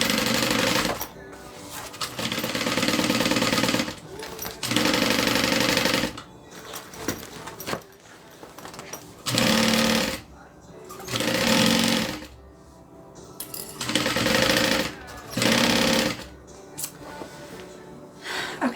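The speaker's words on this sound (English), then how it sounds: "as I'm moving this bag and sewing it" A sewing machine stitches a fabric backpack in repeated loud bursts of rapid mechanical chatter, each running a second or two and broken by short pauses.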